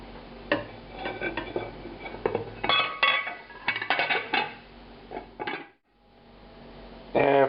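A pot for veal vitello tonnato is handled: metal clanks, scrapes and clinks rattle close by in irregular bursts, a short quiet gap falls, then a final clank as the lid goes back on.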